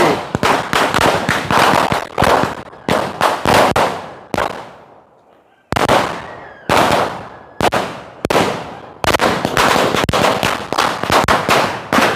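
Firecrackers set off at a midnight birthday celebration, long crackling strings of rapid loud bangs in several bursts with brief gaps between them.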